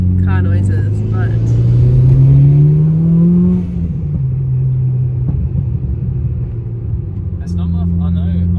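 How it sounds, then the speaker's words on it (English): Low engine rumble and road noise from inside a moving car, with a rising and falling drone as it accelerates, and people talking over it. "I don't know if you can hear me with the car noises"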